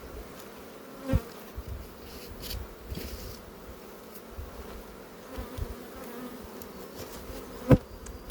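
Ukrainian steppe honey bees buzz steadily in a low hum at a hive, with a couple of sharp clicks or knocks standing out near the start and end.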